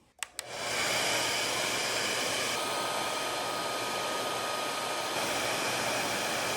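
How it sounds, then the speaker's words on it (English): A hair dryer blows hot air onto a Tesla rear diffuser after a couple of sharp clicks, then roars as a loud, steady, close whoosh that continues to the end. "I'm gonna go ahead and heat this up with the hairdryer"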